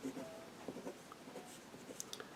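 A pen or pencil scratches softly across paper while values are graphed by hand, in short faint strokes and taps with brief pauses between them, quiet and close, with no talking.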